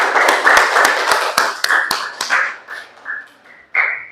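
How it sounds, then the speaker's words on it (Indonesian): A class of Indonesian students clapping hands together in a classroom, a burst of sharp, fairly rhythmic claps that starts loud and close, thins out into scattered claps, then ends with one strong final clap. "Yuk, tepuk tangan"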